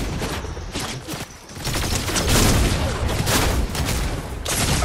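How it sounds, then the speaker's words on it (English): Dense, continuous gunfire in Fortnite, a steady barrage of close, loud shots and impacts with no pauses. "Where am I getting shot at?"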